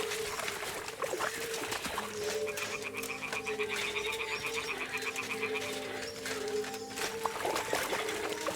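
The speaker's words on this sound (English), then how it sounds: "Ah, the toads are croaking here." Toads croak in a rhythmic, pulsing chorus in the Kingdom Come Deliverance 2 video game, set over trickling water and a steady outdoor ambience, moderately loud and without speech.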